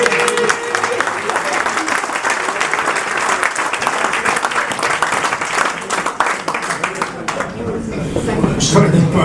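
A presentation audience at the Fondation Cartier bursts into dense, sustained clapping that stays loud and steady for several seconds before thinning toward the end, with voices mixed into the noise.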